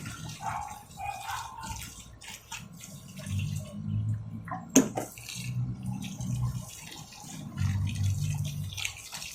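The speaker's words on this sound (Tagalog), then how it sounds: "ang susunod na gagawin ay basain siya ng tubig." Water trickles and splashes into the soil of a potted okra plant in uneven bursts, with a few drips and a single sharp tap partway through.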